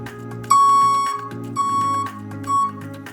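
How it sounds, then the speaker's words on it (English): A DieselPure filter unit alarm sounds in three sharp electronic beeps, the first long and the next two shorter, with a layered tonal drone underneath. "then the alarm will sound, and you can mute the alarm using the alarm mute button"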